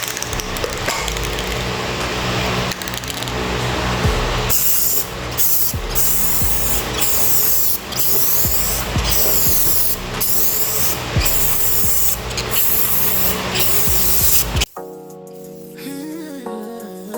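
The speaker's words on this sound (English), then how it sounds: "Let's spray some oil sheen on him." Short, loud bursts of a Rust-Oleum aerosol paint can spraying an LS engine intake cover repeat at a steady pace, followed by music at the very end.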